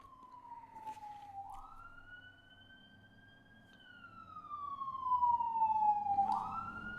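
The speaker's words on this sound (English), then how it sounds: "a bunch of ambulances literally just went right past my road" Ambulance sirens wail as they pass along a residential street, their pitch sliding steadily and then swooping at the end. They start faint and distant, grow louder as the vehicles come closer, and play over low traffic rumble.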